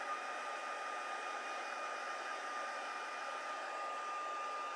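A hair dryer runs steadily on a paper craft card, a constant, fairly faint whooshing hum with a faint steady whine, unchanging for the whole stretch with no talking.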